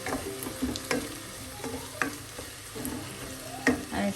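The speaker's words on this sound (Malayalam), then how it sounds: "ആദ്യമായി 1/2 ടീസ്പൂൺ മഞ്ഞൾപ്പൊടി. അതൊന്ന് നന്നായി ഒന്ന് എണ്ണയിൽ മൂപ്പിക്കാം" Half a teaspoon of turmeric powder frying in hot oil for pepper chicken: a soft, steady sizzle with light scrapes and taps of stirring, close and quiet.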